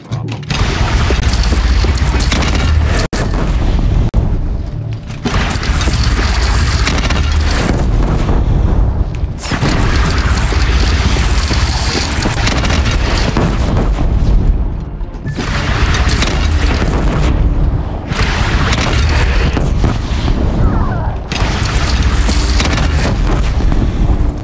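Heavy cannon fire during a bandit clan battle in Horizon Zero Dawn, loud sustained booming and crashing blasts in long dense waves with brief breaks between them.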